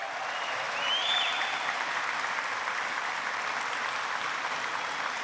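Steady applause from a gathered audience at a college football press conference, honoring national champion cheerleaders and a band; broad, even clapping that swells slightly near the start and holds constant throughout.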